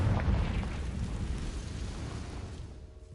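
A fire-blast spell explodes in the Hogwarts Legacy video game, a single deep booming burst that opens loudly and then rumbles away into a fading roar.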